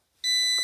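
A single sustained electronic beep, high and steady, starting abruptly and holding loud for about half a second, during shift solenoid work on a 2004 Honda CR-V.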